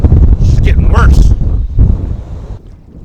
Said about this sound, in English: let's see if I can get something accomplished in this wind. It's just getting worse.